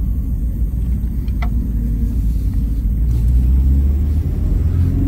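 A Fiat Tempra, new and unused, driving along, giving a steady loud low engine and road rumble heard close from inside, continuous and unchanging, with no talk.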